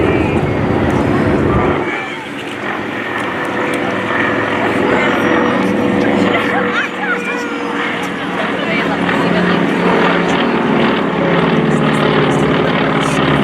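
WWII Grumman Wildcat fighter planes pass overhead at an air show flyover, a loud sustained propeller drone rising in after a quiet start and holding steady, with crowd ambience beneath.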